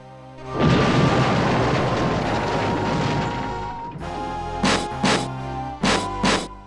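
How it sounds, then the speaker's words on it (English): A loud explosion behind a sealed bulkhead door in the Space Quest VI game: a broad roaring blast that lingers for about three seconds, followed by four short sharp bursts in two pairs. "Just then, you hear and feel an explosion which seems to have come from behind the door."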